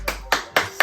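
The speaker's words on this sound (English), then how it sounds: "clap with me back there" Four sharp, evenly spaced claps ring out from an audience at a party-style gathering, each a crisp broadband burst with a short tail, with a low steady hum underneath.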